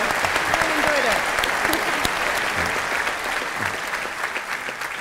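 A large lecture-hall audience claps for the guests after a science talk, dense sustained applause at close range that holds steady and tapers slightly toward the end, with a voice faintly heard under it.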